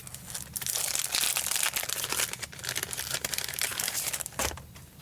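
Plastic packaging around a 2D embossing folder for card making is crinkled and torn open, a loud continuous crackling that swells and dips for several seconds with no talking.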